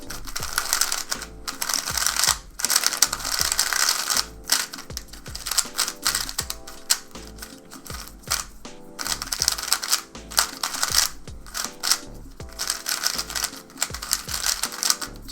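A MoYu WR M 2020 speedcube turns rapidly and continuously, its dry, lightly lubed plastic layers clicking and swishing in dense ratchety bursts with brief pauses, close to the microphone.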